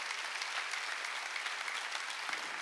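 A church congregation at a Wednesday worship service clapping together, a dense and steady patter of many hands at moderate volume lasting the whole stretch, with no speech.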